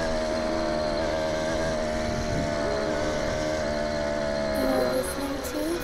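A small motorized bicycle engine runs steadily at close range, a buzzy, sustained drone that holds even revs throughout with no talking.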